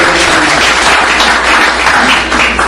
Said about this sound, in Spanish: Den un buen aplauso.